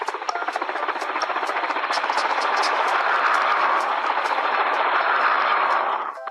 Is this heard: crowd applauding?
no